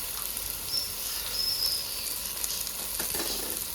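Coriander powder frying in hot oil in a pan while cooking chicken, giving a steady soft sizzle throughout with a few faint stirring scrapes near the end, no talking.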